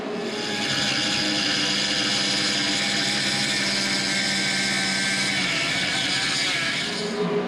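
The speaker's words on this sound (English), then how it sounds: "I'm going to see if I can expand this hole a little bit using the die grinder." Die grinder cutting into metal to widen a hole for a pipe, a sustained high-pitched whine with steady grinding that holds loud for about seven seconds before easing off.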